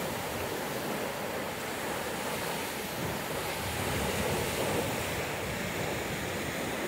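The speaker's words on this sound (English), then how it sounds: "Waves aren't great for surfing." Ocean waves wash and break continuously on a beach at Ocean City, New Jersey, a broad steady surf roar with some wind buffeting the microphone.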